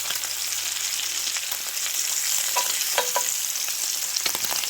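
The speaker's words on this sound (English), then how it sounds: "Well, you can hear it sizzling" Bacon sizzles and crackles in a cast iron pan, a close, steady frying hiss dotted with small pops throughout.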